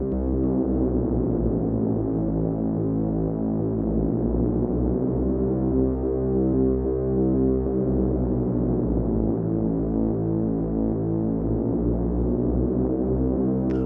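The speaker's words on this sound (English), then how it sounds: "we've got Oscillator 1 modulating itself. So when I hit this, the level of the sine from Oscillator 1 is changing the pitch of Oscillator 1." Erica Synths Syntrx II patch with oscillator 1 modulating its own pitch, producing a sustained, loud, throbbing low drone with wavering harmonics that holds steadily throughout, with no voice.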